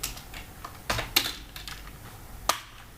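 Quiet, irregular clicks of a computer keyboard as someone types C++ code, a handful of distinct taps with a few sharper keystrokes standing out over faint room noise.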